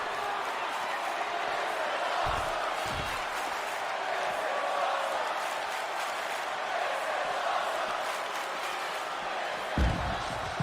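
A wrestling arena crowd cheering in WWE 2K20 during an ECW main event: a steady, distant roar of fans with a few thumps from the ring and voices mixed in.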